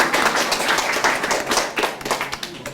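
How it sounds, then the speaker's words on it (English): Audience clapping at the Teddington Station 150th anniversary celebration held at the station, close dense applause from a small crowd that thins into scattered individual claps toward the end. "give them a round of applause"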